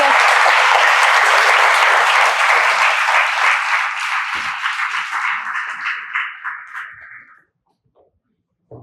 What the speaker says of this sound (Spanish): un fuerte aplauso para la licenciada